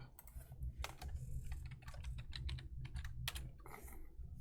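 Close, quick keystrokes tap on a computer keyboard in irregular bursts over a low steady hum, with no talk.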